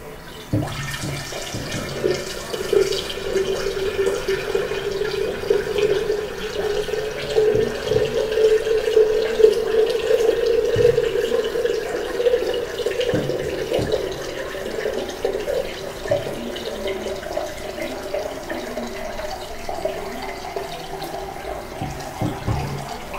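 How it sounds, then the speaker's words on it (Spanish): Tap water runs steadily into a container of freshly squeezed orange juice, topping it up to one litre for an orange drink; a continuous, moderately loud pouring hiss with no talking. "procederemos a completar con agua 1 litro."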